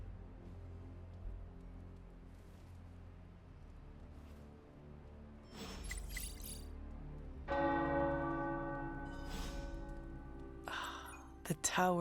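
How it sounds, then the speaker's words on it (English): Tower bells ring out in Marvel's Midnight Suns, entering around the middle and growing louder over a low ambient rumble, with brief bright clangs near the end. "The tower bells are ringing."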